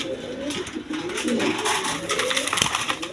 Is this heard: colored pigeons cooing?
yes